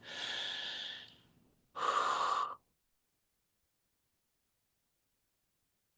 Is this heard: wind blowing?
no